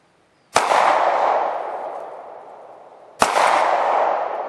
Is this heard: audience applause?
no